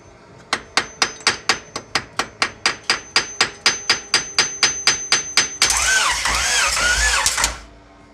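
A Honda H22 engine in a track hatchback cranks over with compression, giving about twenty evenly spaced, loud pulses. They are followed by a couple of seconds of continuous rough whirring before cutting off, with no talking.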